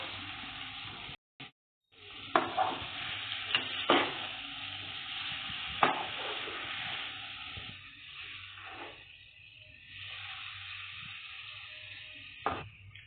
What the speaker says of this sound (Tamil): போட்டு எல்லாம் நல்லா கிளறி விட்டுக்கிறோம்.